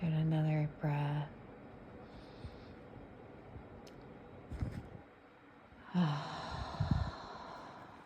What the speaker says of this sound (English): Doing another breath.